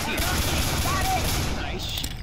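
Gunfire in the video game Left 4 Dead 2, a steady barrage of overlapping shots and game noise, dense and continuous for a couple of seconds.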